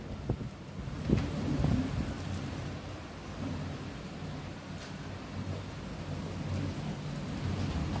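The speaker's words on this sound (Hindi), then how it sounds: "तेज़ हवा और तेज़ बारिश" Heavy rain pours steadily with a low rumbling wind and distant thunder, a continuous dense wash of noise with no voices.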